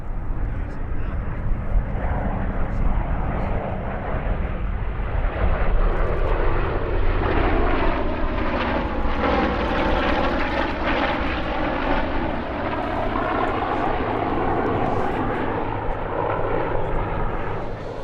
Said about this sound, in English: As well as its solo routine, the Super Hornet performed a legacy flight with 2 Corsairs.